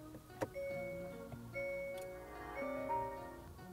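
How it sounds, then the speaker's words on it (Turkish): Start-up warning chime of a Hyundai Kona Electric inside the cockpit: a few clear, tonal chime notes sound alone in a quiet cabin, spread across a few seconds at moderate level. "Bu uyarı sesi olmasa aracın çalıştığını asla anlamayabilirsiniz."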